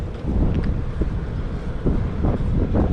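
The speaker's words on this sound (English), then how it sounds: "Can you see that wind gust behind me?" Outdoors on a chilly day, a wind gust makes a continuous low roar and buffets the microphone for the whole stretch.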